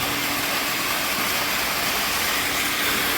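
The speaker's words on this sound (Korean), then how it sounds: "야 이 물소리 들립니까?" Water flows constantly at a pool villa, a dense, even hiss that is close and steady throughout, with no voices.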